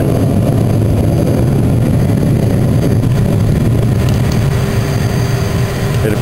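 A makeshift furnace burning garden waste roars loud and steady outdoors with its forced-induction blower running flat out, a thick continuous rumbling whoosh with no voices.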